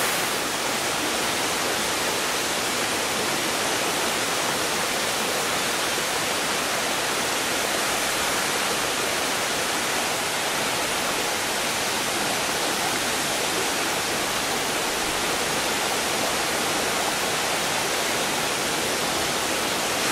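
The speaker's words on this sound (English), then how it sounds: "I think it's the most beautiful waterfall I've ever seen" Madakaripura waterfall pouring down within a canyon in Java, a dense, unbroken roar that stays loud and steady throughout with no voices.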